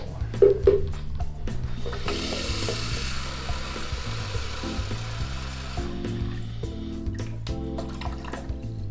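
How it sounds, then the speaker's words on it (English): Cold tap water runs steadily into a measuring container for about four seconds, a broad hissing pour that sits over a tonal hum and stops fairly abruptly, with some mechanical clicks and rattles before and after. "You can just use cold water off the tap"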